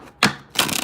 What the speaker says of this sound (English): 2 more shuffles now.